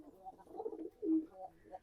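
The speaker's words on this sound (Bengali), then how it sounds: "আর আমাদের নর কবুতরটা কীরকম ডাক দিয়ে দেখেন" A male pigeon gives a soft, low cooing call close by, a few rolling coos in quick succession.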